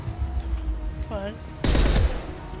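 Short burst of rapid automatic gunfire in Mass Effect Legendary Edition combat, loud and sharp for about half a second, following a brief synthetic voice-like tone.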